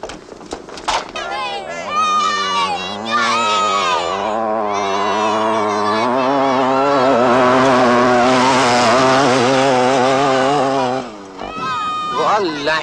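A go-kart engine runs loud and close with a buzzing, wavering drone that rises and falls in pitch, revving harder toward the end before dropping off sharply.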